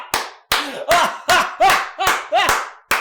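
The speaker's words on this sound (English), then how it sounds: "I got to give you a fucking huge round of applause for that" Hands clap eight times in a slow, steady rhythm, each clap sharp and close, with faint vocal sounds mixed in between some of the claps.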